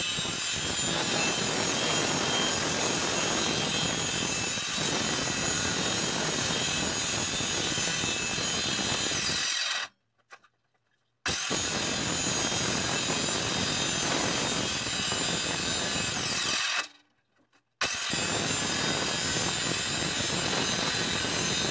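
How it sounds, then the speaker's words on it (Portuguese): A circular saw cuts a PVC lambril panel, a loud continuous whining rasp broken by two brief silent gaps before the cutting resumes, close and with no voices. "como o disco da serra ele joga para cima"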